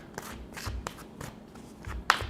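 Tarot cards being shuffled by hand during a reading, giving soft papery riffles and taps in irregular bursts, with a sharper snap near the end as a card pops out; close and fairly quiet, no talking.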